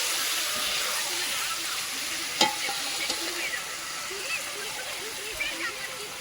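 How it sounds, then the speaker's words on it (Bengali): Cabbage tipped into a very hot pan sizzles loudly and steadily, with the scrape and clatter of stirring, a sharp knock partway through, and faint voices in the background. "খুব গরম হয়ে গেছে, বাঁধাকপিটা এর মধ্যে আমি ঢেলে দিলাম।"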